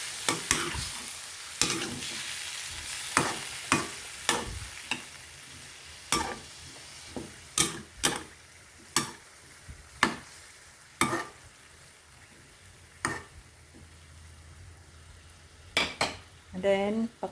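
A spoon stirs chicken curry with a splash of broth in a pot, making a soft simmering sizzle under a series of sharp metallic scrapes and knocks against the pot's side. The knocks come at irregular intervals and are fairly close.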